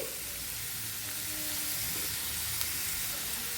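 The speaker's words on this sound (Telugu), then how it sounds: "ఉల్లిపాయలు ఎక్కువే వేసుకోవాలి ఫ్రై చేసుకోవాలి" Onions frying in a pan for an egg curry, with a steady, close sizzle and soft hiss running evenly throughout and no talking.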